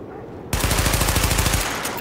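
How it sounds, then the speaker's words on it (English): Rapid automatic gunfire from a weapon-verification test at a shooting range in The Division, a dense burst of closely spaced shots lasting about a second, loud and close, then cutting off into a ringing tail. "Open fire at the highlighted targets."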